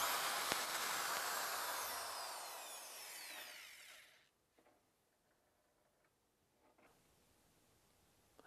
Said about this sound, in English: Drill the 5/16 holes into the OEM hanger at the marked location